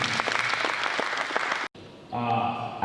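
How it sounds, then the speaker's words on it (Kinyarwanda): Wedding congregation clapping together in a church service, a dense, steady burst of applause that cuts off abruptly, followed by a voice or tonal sound. "Abemera Yesu mukorera amashyi."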